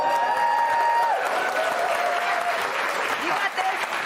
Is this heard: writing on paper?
no